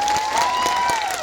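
A crowd claps at a political rally in Garbada, a brief burst of dense, steady applause with a thin whistle running through it and no voices.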